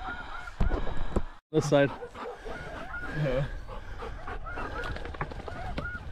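Snow geese honk repeatedly during a waterfowl hunt, their calls close and clear over outdoor background noise, with a dog present and someone briefly speaking.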